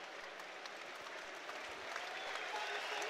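A stadium crowd at an England v Ireland rugby match applauds a substitution, with warm sustained clapping that swells slightly and continues steadily under faint commentary.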